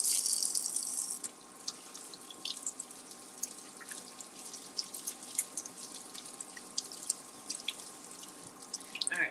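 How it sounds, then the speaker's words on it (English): Kitchen tap water running into a sink while salmon fish is rinsed, a steady close splashing stream with scattered drips and spatters, starting with a brief louder gush. "Let's give the fish a rinse."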